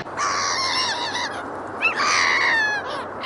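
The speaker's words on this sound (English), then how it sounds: "What sound do geese make?" Geese honk and cackle in a loud, close burst of overlapping nasal calls, with no talking.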